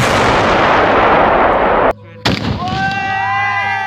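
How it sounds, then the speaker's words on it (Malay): Dense crackling bursts of firecrackers set off by villagers in Pemalang, Indonesia, fill the first two seconds, then a sharp bang follows a brief gap, with voices talking afterward. "segelintir warga desa mula menjalankan tradisi mereka, iaitu bermain mercun"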